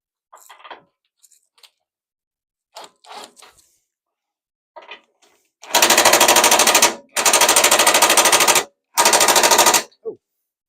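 An impact gun fires three long, loud rattling bursts while a Maserati Coupe 4200 is being parted out. The bursts follow scattered quiet clinks and handling noises in an otherwise silent workshop.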